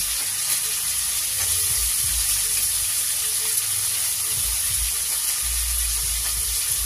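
Thinly sliced carrot, capsicum and beans fry in a hot pan for mixed fried rice, giving a continuous, even, close sizzle and hiss with occasional soft stirring.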